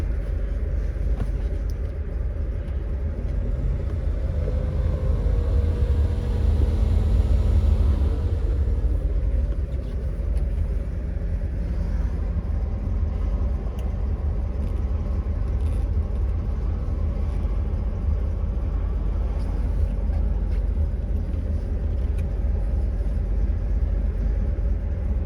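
Restored 1964 Corvette C2 coupe with a 327 V8 and four-speed manual cruising on the road, a steady, loud, continuous engine drone and road rumble heard from inside the car, with no break throughout.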